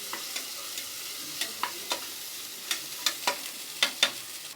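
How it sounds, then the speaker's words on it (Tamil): Cooked beef pieces fry in a pan with onions, ginger garlic paste and turmeric, a quiet sizzle punctuated by a dozen crisp, evenly spaced scrapes and taps of a spoon stirring, close with no voices. "இப்போ நம்ம வந்து வேக வச்ச கறியை இதில் போட்டுற போகிறோம்."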